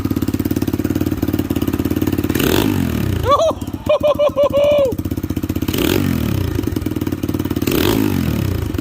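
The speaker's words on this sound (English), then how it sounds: "let's hear how that Two Brothers exhaust sounds" An SSR 110 pit bike with a Lifan 140cc racing engine and Two Brothers exhaust idles loudly up close, then revs sharply in several quick bursts through the exhaust before settling back to a rumbling idle.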